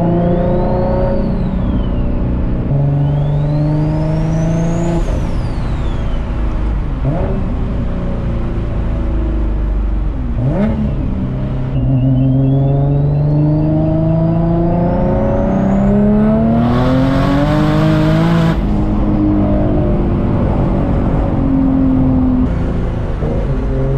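An 883 whp turbocharged Infiniti G35 coupe accelerates hard through the gears, the engine climbing and dropping in pitch with turbo whine and spinning rear tires, loud and sustained from inside, without talk.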